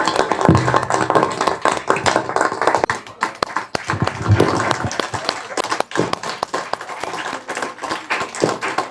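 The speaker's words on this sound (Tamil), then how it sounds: "உங்களுக்காக ஒரு பலத்த ஒரு கைத்தட்டல்" An audience at a Maha Shivaratri Bharatanatyam performance in Chidambaram breaks into loud, close clapping, with uneven sharp claps and a voice or two mixed in.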